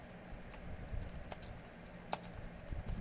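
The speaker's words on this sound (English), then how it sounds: "if I could type, that would help" Quiet computer keyboard typing while entering a cashier account in accounting software, a few scattered key taps over a low background hum, faint and close.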